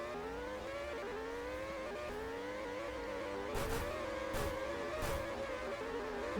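Race cars in a mobile racing game at a Brazilian Grand Prix event, with layered engine whines rising and falling through gear changes and several brief loud bursts as cars pass close.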